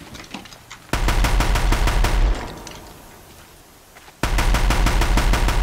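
Rapid bursts of machine-gun fire in Horizon Zero Dawn, loud and close, two long sustained volleys separated by a quieter stretch of scattered shots.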